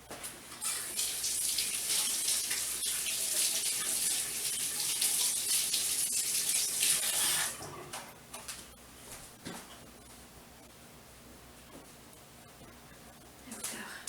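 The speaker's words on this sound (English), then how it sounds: "I gotta wash my fingers." Fingers washed under a running kitchen faucet, a loud steady rush of tap water for several seconds that then shuts off, leaving quieter kitchen handling noises, with someone speaking briefly.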